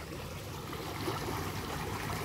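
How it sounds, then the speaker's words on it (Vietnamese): Floodwater gushes steadily from an old drainage culvert, a continuous close rushing wash of water with no voices, holding an even level throughout. "Trang chỗ cái cống cũ xả nước."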